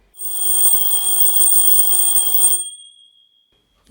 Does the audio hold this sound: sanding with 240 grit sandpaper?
no